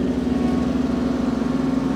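The small diesel engine of an Iseki TLE3400 compact tractor runs flat out in low gear while pulling a Fleming finishing mower, a loud, steady close-up drone with a fast regular throb and no talk.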